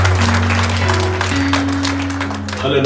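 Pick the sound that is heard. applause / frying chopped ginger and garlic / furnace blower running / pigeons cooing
applause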